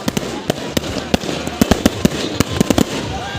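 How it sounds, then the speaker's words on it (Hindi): Firecrackers burst repeatedly around a village leather-ball cricket tournament between Darbhanga and Muzaffarpur, with sharp, irregular bangs that come faster and faster over a constant crowd din. "पटाखे गूंज रहा है चारों तरफ"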